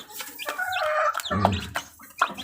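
Two-day-old chicks with a hen make quick, high peeping calls mixed with low clucks, close and busy over about two seconds.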